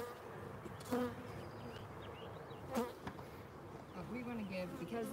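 Honeybees from a new package colony drone in a dense, steady buzz during a hive inspection, with individual bees whining past close by now and then.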